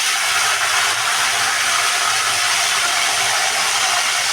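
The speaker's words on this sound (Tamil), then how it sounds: "கடுகு நல்லா பொரிஞ்சு வருதுங்க." Mustard seeds spluttering in hot oil for a village-style fish curry, a dense continuous crackling hiss, loud and close, with no voices.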